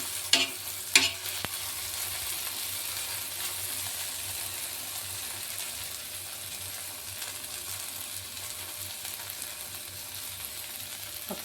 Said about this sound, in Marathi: त्याला अधूनमधून थोडंसं असं फिरवून घ्यायचं, कारण भेंडी एकाच साईडला होईल म्हणून